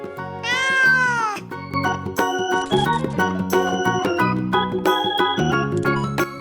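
A cat meows once near the start in a rising, wavering cry, set inside a bright, busy children's song with bell-like tones and steady music running throughout.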